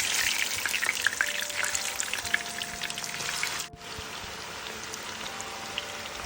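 Chicken 65 pieces deep frying in oil, a dense crackling sizzle up close that dips briefly midway and then continues steadily.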